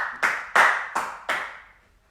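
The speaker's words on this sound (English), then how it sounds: "can we clap and move now?" Group hand clapping during an exercise drill in a live workout session: four sharp, echoing claps spaced roughly a third of a second apart, each ringing out briefly in a reverberant room, with no talking.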